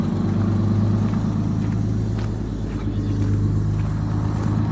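Eagle bus engine idling: a loud, steady low diesel rumble with a regular throb, holding fairly even throughout, close up and alone without voices.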